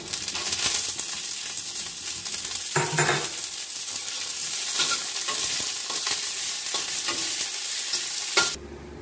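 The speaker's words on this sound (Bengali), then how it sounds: "কাজু বাদামটা একটু হালকা করে ভেজে নিচ্ছি।" Cashew nuts and soaked raisins frying in a pan, a continuous sizzle broken by scrapes and stirring strokes, close and steady, no voices.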